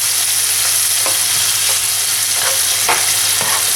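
A spoon stirs creamy bistek Tagalog with black pepper in a hot, sizzling pan, giving a few soft scrapes over a constant loud frying hiss.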